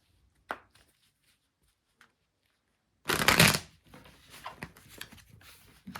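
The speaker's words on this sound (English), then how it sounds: "Having trouble shuffling these cards because my hands are so small." Tarot cards shuffled by hand, close up, give a sharp riffling burst followed by a run of softer flicks and taps as the deck settles. Short quiet gaps come before the shuffle.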